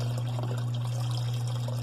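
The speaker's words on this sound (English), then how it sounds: "we just sit here and watch water run all day long when you're running the dishwasher" Drain water from a dishwasher running into a 5-gallon bucket, a steady close splashing trickle over a constant low electrical hum, with no talk.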